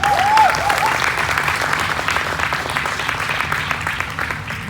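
A church congregation gives a hand clap of praise during a sermon, a full steady round of applause that starts strong and slowly thins, with a brief vocal note at the start.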